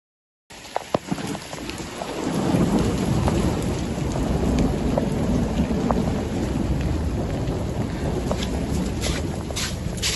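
A heavy hailstorm in Alexandria, Egypt: dense, loud rain and hail pelt a surface in a continuous roar, with rumbling thunder and sharp close cracks cutting through.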